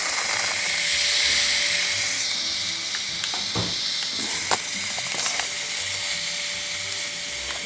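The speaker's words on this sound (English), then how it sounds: "I'm just going to let the steam out for a little bit" Steam hisses steadily and loudly from the release valve of a pressure pot cooking a beef pot roast, a constant close rushing jet with scattered small clicks and ticks over several seconds.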